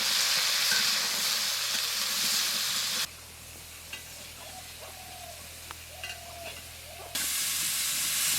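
Spices with salt and turmeric fry in a pan after garlic and chillies, for a radish dal; a hissing sizzle runs throughout, louder at the start and end, quieter in the middle with occasional stirring taps.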